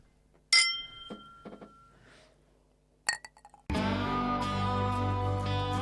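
Glasses of Buffalo Trace bourbon clink in a toast, a bright ringing chink followed by a few softer taps, then loud music takes over.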